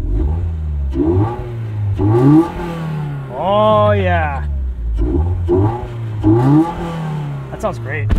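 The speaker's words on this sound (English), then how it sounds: "Exhaust is pretty loud inside anyways." Modified automatic Toyota GR86 exhaust drones loudly inside the cabin while accelerating on a canyon drive, with people talking over the engine throughout.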